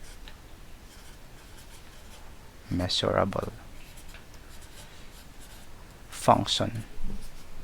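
A lecturer in a machine learning lesson on measurable functions writes on a board, producing close scratchy strokes around his speech.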